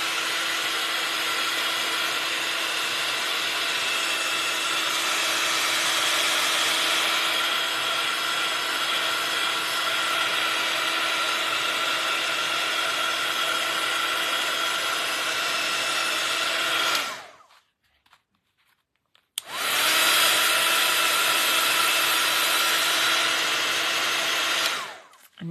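A heat tool blows steadily on the back of an art journal page, a loud continuous whirring hiss that cuts out for about two seconds, then starts again at full strength before stopping near the end.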